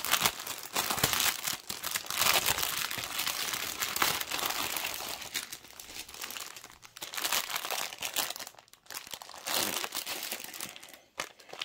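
Plastic packaging crinkles and crackles in close, continuous bursts as a cross-stitch kit parcel is unwrapped by hand, the rustling rising and falling with brief pauses and no talk.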